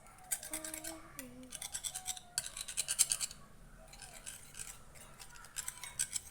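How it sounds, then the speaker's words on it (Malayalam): A utensil scrapes and stirs food in a pot in a home kitchen, with quick rhythmic scratchy strokes that come in bursts, fairly close but quiet, with a faint voice in the background. "ഇനി നമുക്കിത് ഇളക്കി കൊടുക്കാം."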